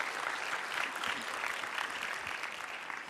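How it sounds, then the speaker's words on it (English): An audience at a food systems pitch day claps in steady, dense applause that holds evenly throughout without rising or fading. "A hand of applause for Hatch Plus"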